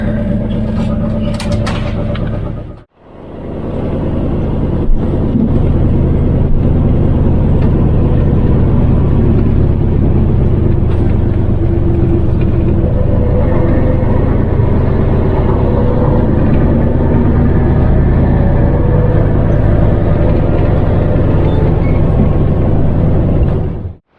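A city bus drives toward Niigata Station in Japan, its engine rumbling as a steady, close whir under the road noise. A brief dropout comes early on, then the drone carries on evenly.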